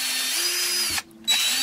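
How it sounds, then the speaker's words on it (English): A power drill drills holes with a loud, steady whine close to the mic, cuts out briefly just after a second and then spins up again, with no talking. "drill some holes into those marks that you made"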